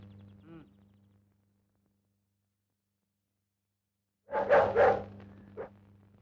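Indoors, a dog gives a brief cluster of barks after a long stretch of near silence, preceded by a short faint sound, with one more bark trailing off at the end.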